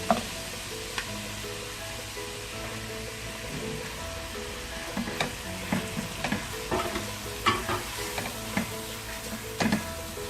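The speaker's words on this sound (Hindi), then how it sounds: "चिकन डालकर हम इसे 2-3 मिनट तक फ्राई कर लेते हैं।" Chicken pieces fry with garam masala, ginger and garlic in a pan for Balochi biryani, a continuous sizzle broken by repeated scraping and clinking stirs that grow more frequent in the second half.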